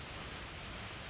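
Steady rain falling at night around an old sanatorium, heard as a dense, even hiss that stays constant for a brief moment, with no voices.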